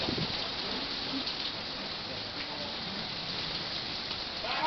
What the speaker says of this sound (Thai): ฝนก็มาตกแค่มองเดียว